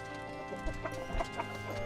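Chickens and a rooster cluck softly on a backyard poultry farm being fed, a few short low clucks close by over faint background noise, with no talking.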